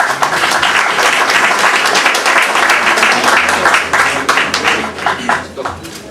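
An audience applauds after a book presentation on Socrates, dense sustained clapping filling the room at high volume, tapering slightly toward the end.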